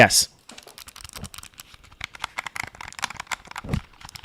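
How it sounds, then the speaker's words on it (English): Mechanical keyboard keys clicking in a quick, uneven run of sharp taps, close and fairly clear, with a louder clack near the start and another near the end. "I do love the key, the mechanical sound of the keys and stuff like that."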